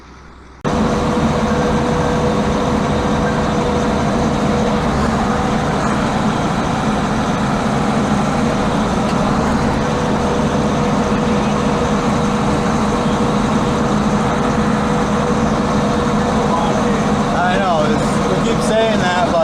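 An old tractor cutting hay, heard from the seat: a loud, constant engine drone with mechanical rattle that runs unbroken for nearly twenty seconds after starting abruptly.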